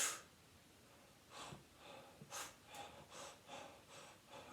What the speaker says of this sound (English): But if we breathe in quickly,